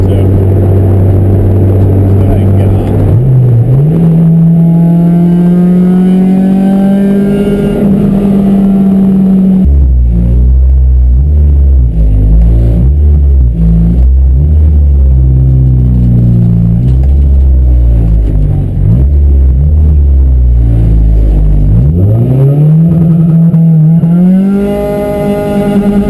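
An Acura RSX engine revs hard on launch control, holding a steady high-rpm drone, dropping, then climbing again in sweeping rises, loud and close for the whole stretch.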